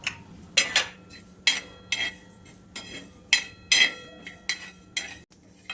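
Niger seeds are dry-roasted and stirred in a pan: a close, irregular series of sharp metallic scrapes and clinks of a spoon against the pan, separated by brief quieter gaps.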